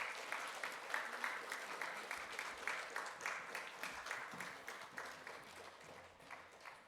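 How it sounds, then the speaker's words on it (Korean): A church congregation gives soft, steady applause of encouragement at a completion-certificate ceremony, a faint continuous patter of many hands with a gentle pulsing rhythm, and no voices over it. "박수로 우리 격려해 주시기 바라겠습니다."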